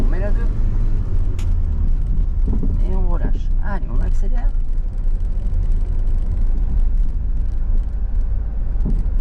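A car's engine pulls as it accelerates in second gear during a driving lesson at a junction. It is a steady, close, low drone that lasts throughout, with a voice talking over it.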